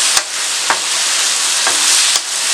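Chicken mince with lemon juice cooking over high heat, with a loud steady sizzle broken by a few sharp stirring clacks, close up with no voices.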